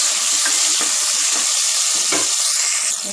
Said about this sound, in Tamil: போட்டுட்டு நல்லா வந்து ஃப்ரை பண்ணிடுங்க.